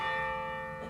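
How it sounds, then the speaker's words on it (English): A church bell tolls once with a long, ringing decay, its harmonic tones sustained loudly through the whole moment with no voices. "The bell tolls for all of us."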